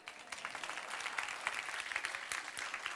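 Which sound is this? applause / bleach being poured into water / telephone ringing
applause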